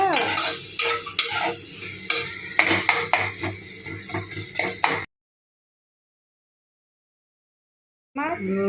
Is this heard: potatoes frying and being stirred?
yes